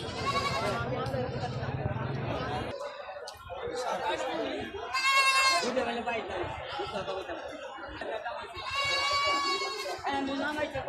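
Goats bleat loudly at a livestock market, with several close, wavering calls rising over steady crowd chatter and voices talking throughout.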